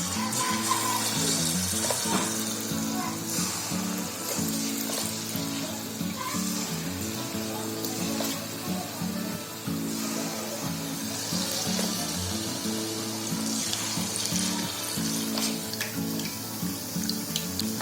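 Spoonfuls of vada batter dropped into hot oil on a gas stove, giving a steady, loud, close bubbling sizzle that runs continuously with no talking.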